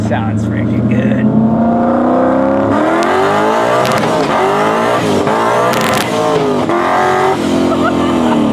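A 900-horsepower Coyote V8 swapped into a stick-shift Mustang Cobra revs hard on a two-step launch limiter, with a loud, rising engine roar that holds steady close by while people talk over it.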